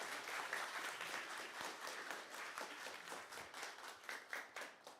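Audience applause at a national engineering awards ceremony honoring finalists, a steady broadband clatter of many hands clapping continuously for the whole stretch, moderately loud and fairly close.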